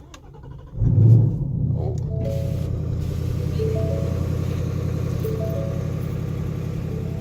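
A 2018 Roush Mustang Stage 3 engine starts with a loud burst, then settles into a steady, deep idle rumble that runs unbroken to the end.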